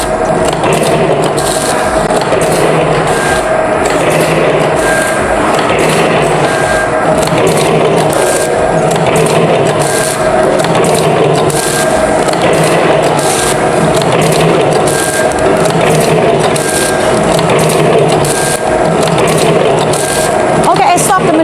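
Automatic vertical powder sachet packing machine, model ATM-320D, running continuously with dense mechanical clatter, scraping and rhythmic thumping at a steady, fairly loud level throughout.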